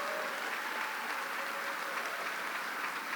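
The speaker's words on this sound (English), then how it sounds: "Let's give them a big round of applause for all the good work that they do" An audience claps at the Gay Men's Health Crisis Gala, a soft, even wash of applause from a distant crowd that runs unbroken throughout.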